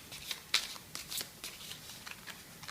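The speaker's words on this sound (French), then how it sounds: "je vais tirer une petite carte de couleur pour terminer" Tarot cards being shuffled by hand before one is drawn, a quiet, close series of soft riffling flutters and papery slaps in an uneven rhythm, with no talk.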